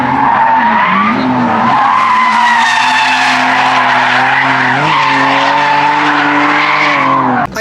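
A car spins in circles, and its tires squeal loudly and continuously under a revving engine. The pitch wavers as it turns, and no voices are heard.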